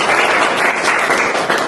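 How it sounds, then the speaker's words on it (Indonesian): Students in an Indonesian classroom applaud a classmate during a teaching lesson, with dense, close, steady clapping filling the short stretch. "Beri tepuk tangan untuk teman kalian."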